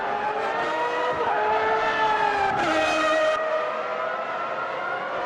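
A Formula V12 race car engine from the 1995 season mod of the Automobilista 2 racing game screams at high revs around Imola. It gives a loud, continuous, close whine that slides in pitch through gear changes, with no talk.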